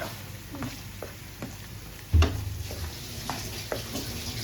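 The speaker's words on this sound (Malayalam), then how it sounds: "ആ വെളിച്ചെണ്ണയിൽ വെളുത്തുള്ളി പിന്നെ ഇഞ്ചിയും കൂടിയിട്ട് ഇളക്കി" Garlic and ginger fry in coconut oil left over from frying chicken, a soft close sizzle with light spoon scrapes and one sharper clunk of stirring partway through; no speech.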